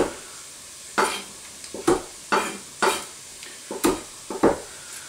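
A knife saws through a crusty Italian roll, cutting it into bite-sized pieces in about seven separate crunchy strokes at a steady, unhurried pace, close and clear with no talking.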